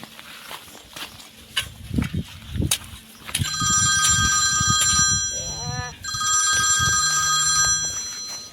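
A telephone rings in a Gujarati comedy skit, a bright repeated electronic ring in two long bursts, preceded by a few thumps and brief talk.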